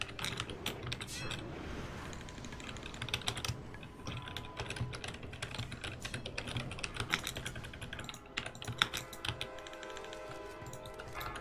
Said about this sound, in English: Could basically buy any mechanical keyboard and just buy separate O-rings.